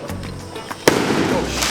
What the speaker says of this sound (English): So we've got the drone up for the firework display.